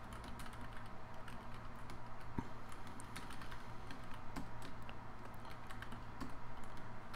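Swift code being typed on a computer keyboard: quiet, rapid clicking keystrokes in uneven bursts over a low steady background hum, no talking.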